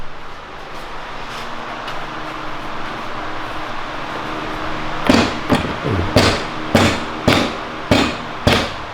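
Sharp metallic hammer blows ring out on a wrecked Can-Am Maverick X3 in a steady series of about seven strikes, loud and close, after a stretch of background rumble.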